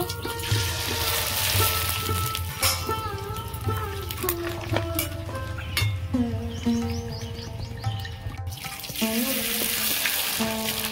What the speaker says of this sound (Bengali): তেল গরম হয়ে গেছে, পাঁপড়গুলো ভেজে নেব।